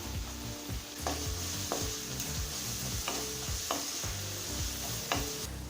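Two green chillies frying in a pan for brinjal rice, a continuous crackling sizzle with rhythmic stirring scrapes of a spoon against the pan, close and without any talk.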